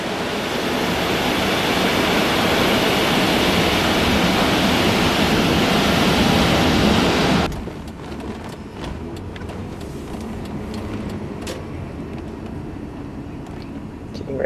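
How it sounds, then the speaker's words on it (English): Water rushes over a car inside an automatic car wash, heard from within the vehicle as a loud, steady roar that cuts off abruptly halfway through, leaving quieter cabin sounds and soft drips. "And the water rushes in."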